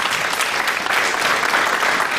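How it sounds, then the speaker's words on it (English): A conference audience applauds steadily, a dense wash of many hands clapping at close range, loud and continuous for about two seconds with no speech over it. "Thank you. Applause."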